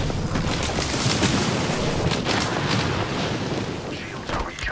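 Airstrike explosions in the Apex Legends game, a dense run of booming blasts and crackling bursts piling into a loud, unbroken barrage that holds for several seconds.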